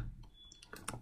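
Quick, light keystrokes on a computer keyboard while entering a PowerShell command, a short run of soft clicks close up and quiet, with no talking.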